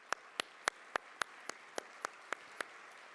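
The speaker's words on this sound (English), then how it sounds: "give them a nice round of applause." A small audience at an MLK regional celebration claps for the sponsors in a faint, sparse round: about ten sharp, evenly spaced claps over a few seconds, with no talk.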